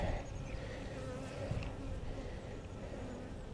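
Honey bees buzz around an open hive during an inspection, a dense, faint, steady hum of many wings with a few individual bees passing close.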